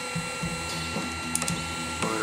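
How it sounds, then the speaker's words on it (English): Small CNC machine's X-axis motor driving the table, its backlash nut giving a rhythmic mechanical ticking and rattling over a steady motor whine, close and fairly loud. "A little noise from this backlash nut."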